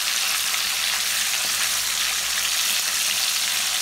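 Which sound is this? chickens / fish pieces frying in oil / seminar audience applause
fish pieces frying in oil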